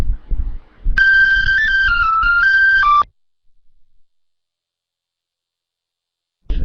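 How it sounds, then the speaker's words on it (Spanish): A telephone rings during a religious lecture, a loud electronic tone with a steady warbling pitch sounding for about two seconds after brief talk, then silence apart from a faint blip. "están llamando por teléfono"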